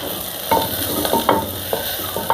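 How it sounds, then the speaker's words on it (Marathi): Tomatoes with a little coriander sautéing in a pan for a fish dish, a steady sizzle broken by several short stirring scrapes, close and fairly loud with no talking. "टमाटे मी व्यवस्थित परतून घेऊया त्याच्यामध्ये थोडीशी कोथंबीर टाकूया"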